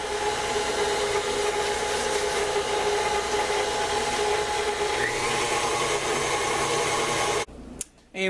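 Electric mixer whirring steadily as it beats egg, butter and molasses together for molasses cookie dough, a loud continuous drone that cuts off abruptly near the end.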